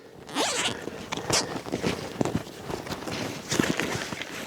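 A zipper on a small day pack is pulled open close by, in a few quick rasping tugs with light rustling of gear between them.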